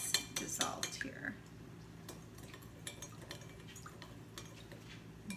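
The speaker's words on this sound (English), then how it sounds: "I just stir it up till the sugar is pretty much dissolved" A spoon clinks and scrapes against a jar while stirring sugar into water for water kefir, a quick burst of metallic taps at first that fades into quieter stirring.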